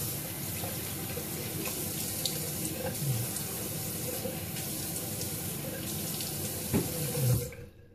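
Water runs steadily from a tap into a sink for wetting the face before a shave, a continuous close splashing hiss with a slight change in the stream near the end as it shuts off.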